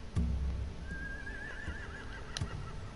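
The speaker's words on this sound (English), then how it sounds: "We cut those horses free." A horse whinnies in The Walking Dead video game, a single clear neigh rising and wavering over about a second, with soft hoof clops and stamping around it, all fairly faint and with no talk.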